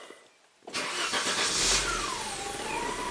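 Engine of a 1991 Audi 200 Quattro 20V Turbo cranking and catching after a short quiet moment, then settling into a loud, steady idle up close with a faint high whine, no voices.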